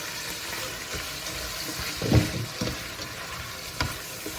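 Pork belly with skin sizzles and bubbles under a lid in a covered pan, a steady close frying crackle with a couple of brief louder spits.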